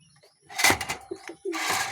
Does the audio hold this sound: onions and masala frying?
no